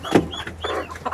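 Chickens on a small farm, roosters and hens together, cluck in a few short bursts close by, with no one speaking.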